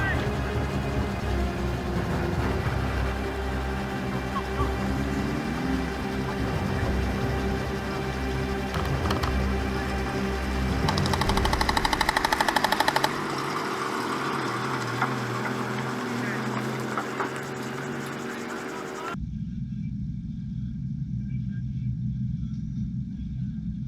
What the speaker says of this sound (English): A troop carrier then comes in to help finish off any remnants with machine gun fire.